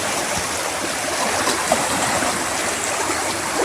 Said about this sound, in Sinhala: එතන යටින් මෙන්න මෙහෙම බටෙන් මෙන්න මෙතනින් වතුර එනවා